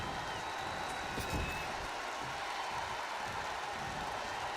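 A video-game crowd at Madison Square Garden in WWE 2K20 sends up a dense, steady wash of cheering and applause, loud and continuous with no break.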